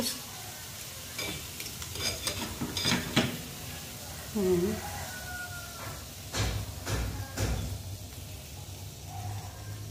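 Egg going into bitter gourd stir-frying in a pan, with clinks of a utensil against the pan, scraping stirs and a soft sizzle underneath, fairly quiet and close.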